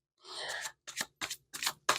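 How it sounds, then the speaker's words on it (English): Playing cards being shuffled up close: one longer riffling rasp followed by four short, crisp bursts with brief silences between them. "But I'm going to shuffle again."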